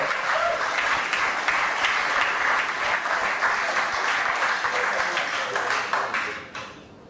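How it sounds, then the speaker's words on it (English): Demo day audience at a Hong Kong startup accelerator applauds a departing team, a continuous wash of many hands clapping at steady volume that tapers and fades out near the end. "One more round of applause for Gyantel."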